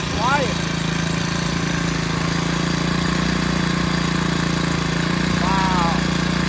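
A cheap air-cooled outboard motor runs at a steady idle, giving a constant low drone close by, with short voice-like chirps over it.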